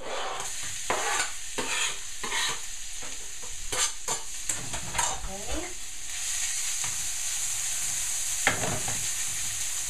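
Chopped onion hitting hot oil in a pan for an asparagus risotto, a constant high sizzle over which repeated scraping and stirring strokes clatter close by.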